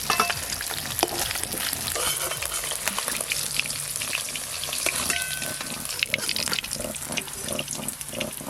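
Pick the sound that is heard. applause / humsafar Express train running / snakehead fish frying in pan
snakehead fish frying in pan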